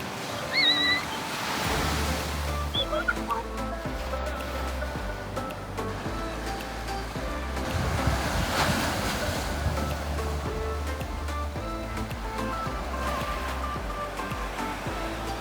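Ocean surf rolls in on a Hawaiian beach where sea turtles rest, with repeated wave washes and strong wind buffeting the microphone, and no voices.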